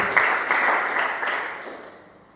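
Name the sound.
congregation applause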